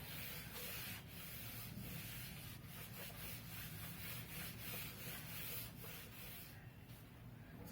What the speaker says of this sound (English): I will rub this paragraph.